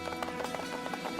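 Horse hooves clip-clopping in Assassin's Creed, a quick, steady run of faint hoofbeats laid over game music and ambience.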